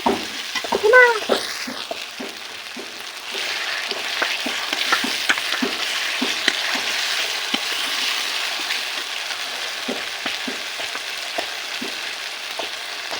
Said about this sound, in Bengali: এখন দিয়ে দেব অল্প করে জল মশলা কষানোর জন্য। এভাবে কিছু সময় মশলা কষিয়ে নিব।